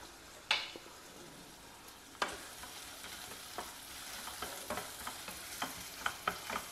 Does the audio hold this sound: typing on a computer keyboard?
no